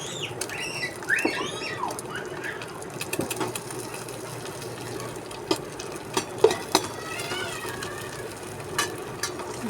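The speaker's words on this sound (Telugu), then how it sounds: "ఈ విధంగా ఎగ్ వేసేసుకొని దీన్ని కూడా కలిపేసుకున్నాం. కొంచెం ఫ్రై అయితే సరిపోతుంది." An egg is stirred and fried in a pan, a quiet scraping and soft sizzle, with bird chirps in the background.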